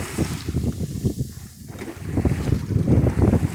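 A schooner sails on one tack across Gloucester harbor, Massachusetts, during a schooner race weekend, with steady wind buffeting the microphone and a broad rush of water and hull noise throughout.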